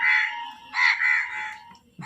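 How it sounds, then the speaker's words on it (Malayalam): Harsh crow caws ring out in a few loud, drawn-out calls, close by, with a short pause before a final abrupt caw. "കാക്കയൊക്കെ അവിടെ നിന്ന് കരയുന്നുണ്ട്"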